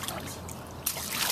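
Water splashes in a rooftop pool on a hot day, with continuous close splashing and trickling that grows brighter and louder toward the end.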